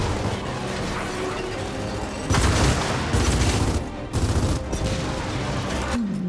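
Gunfire in the shooter Gears of War 4: dense, continuous bursts of automatic weapon fire with short pauses between volleys, loud and close, mixed with booms and game effects.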